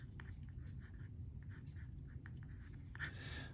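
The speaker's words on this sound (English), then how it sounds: "I'll write down the original equation" A pen scratches out an equation in short strokes, faint and close, in a quiet room with no one speaking.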